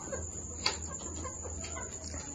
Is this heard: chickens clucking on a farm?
yes